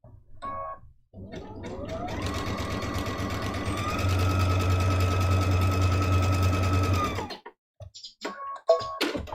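A sewing machine stitches a fabric Christmas-stocking mug rug in one steady run of several seconds, the motor whirring loud and close with a rapid even needle rhythm. Brief handling clicks come before and after.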